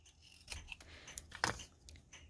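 Scissors snip through a paper roll while a tassel bead cap is being made, giving a few quiet, close cuts with soft rubbing sounds in between.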